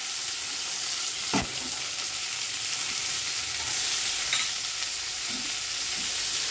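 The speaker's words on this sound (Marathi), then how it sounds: "टोमॅटो टाकले, एकीकडे सुकं खोबरं घेतलंय। आता हे चांगलं भाजून घ्यायचं।" Tomatoes and dried coconut sizzle steadily in a pan while being roasted, with a few scraping stirs of a spoon over the constant frying hiss.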